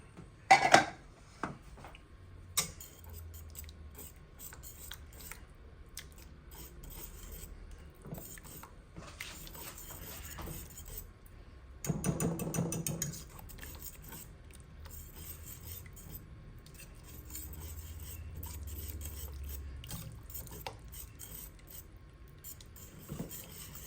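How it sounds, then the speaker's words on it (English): A whisk scrapes and rubs faintly inside a pot of cheese sauce, with soft intermittent scratching and a few louder metallic clinks, quiet and close with no talk. "We can whisk it now because we don't want no lumps"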